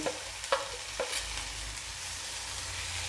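Spices such as turmeric, pav bhaji masala and goda masala sizzling in hot oil while being stirred: a few quick scraping taps of a spoon early on, then a soft steady frying hiss, no voices.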